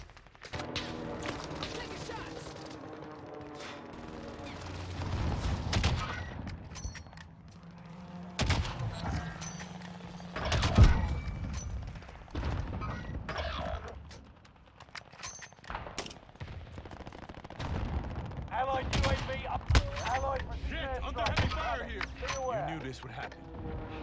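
Gunfire in Call of Duty: Modern Warfare, with repeated sharp shots and heavy blasts scattered through a busy firefight, loud and cluttered, along with in-game voices and effects.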